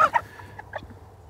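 Short soft clucks from chickens foraging in a clover patch that they fertilized the year before, a few brief calls close by over a quiet outdoor background.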